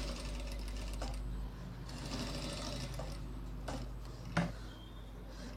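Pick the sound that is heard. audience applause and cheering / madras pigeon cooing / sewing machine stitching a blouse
sewing machine stitching a blouse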